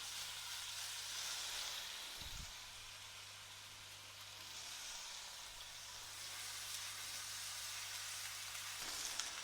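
Steak sears in hot, runny oil in a hot pan, a steady close sizzle and hiss that swells and eases slightly, with a couple of soft low thumps and no talking.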